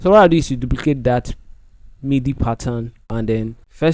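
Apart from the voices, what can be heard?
No distinct noise like a dog, phone or traffic.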